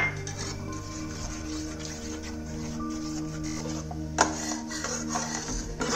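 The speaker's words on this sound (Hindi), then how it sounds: "इस घोल को हम लगातार चलाते रहेंगे, बीच में रोके ही नहीं रहेंगे" Gram flour batter with turmeric, asafoetida and salt being stirred continuously in a kadai for khandvi, a steady close scraping of the spoon against the metal pan with one sharper clink near the end.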